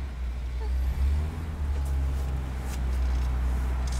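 A Toyota 4A-GE engine fitted in a KE70 Corolla idles with a steady low rumble throughout, close by, with faint clicks and rattles on top.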